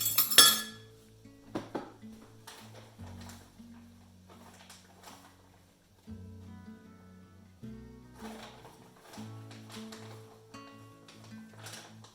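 A whisk clinking against a bowl while vegan white chocolate ingredients are mixed, with irregular scraping and metallic taps after a sharp clatter at the start.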